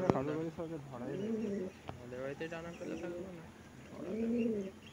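A pigeon held close in the hand gives low, throaty coos in several rolling phrases, loud and near, with short pauses between them.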